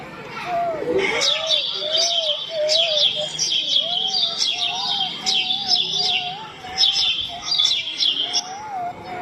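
Small birds such as sparrows chirp in quick, bright repeated bursts nearby, while a voice talks steadily underneath.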